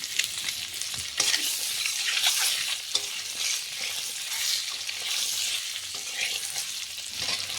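Eggs fry in hot oil seasoned with turmeric and salt for an egg curry, giving a continuous close sizzle with stirring scrapes and no talk.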